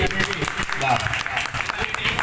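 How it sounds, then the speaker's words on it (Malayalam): Audience applause at a YouTubers' meetup in Malappuram: a dense, steady wash of clapping from a crowd, fairly loud and continuous, with people talking over it throughout. "ഒരു നിറഞ്ഞ കൈയടി"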